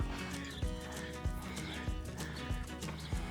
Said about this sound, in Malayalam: ഇതൊരു വെറൈറ്റി കുതിരയല്ലേ